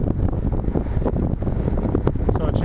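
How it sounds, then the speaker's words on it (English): Heavy wind buffeting a microphone during a Thanksgiving bike ride on a quiet road, a loud continuous low rumble with gusty swells and no clear speech. "Fairly windy."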